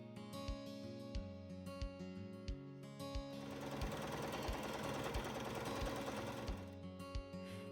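A sewing machine topstitching a garment panel with a regular straight stitch, close and steady, running in a rhythmic chatter that speeds into a fast continuous whir before easing off.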